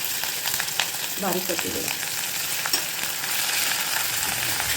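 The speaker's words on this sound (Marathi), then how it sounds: "त्याचा लसणाचा पूर्ण कच्चेपणा जायस्तोवर याला शिजवायचं" Crushed garlic, ginger and green chili frying in a pan, a steady hiss with soft crackles, and a voice speaking briefly over it.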